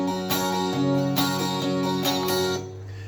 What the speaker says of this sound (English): Now for your verse, the rhythm for this is really easy. It's going to sound like this.